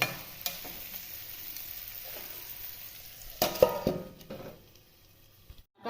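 Fried potatoes stirred into a pan of pigeon meat curry: a steady soft sizzle with scraping spoon strokes, which grow louder near the end and then fade out. No one speaks.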